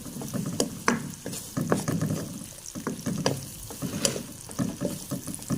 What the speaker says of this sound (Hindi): 1 मिनट सोते करने के बाद हम इसमें प्याज डाल देंगे।